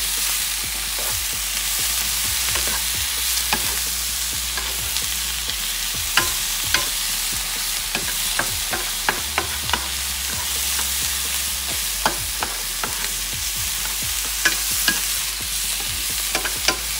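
Shrimp fry in garlic oil in a pan over medium-low heat for camarones al ajillo, giving a steady close sizzle broken by frequent sharp clicks and scrapes of stirring, with no one talking.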